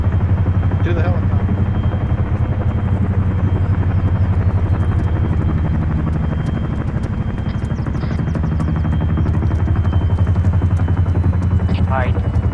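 A loud helicopter drones steadily throughout, its rotor thumping low and constant, with voices faintly audible beneath the engine roar.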